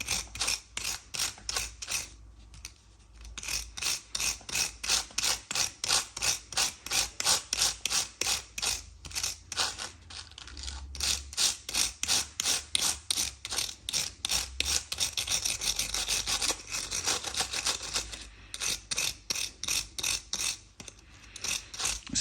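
A hand wire brush scrubs residue off a Vauxhall Corsa E front brake caliper, rapid rhythmic rasping back-and-forth strokes, close and loud, with brief pauses between bursts.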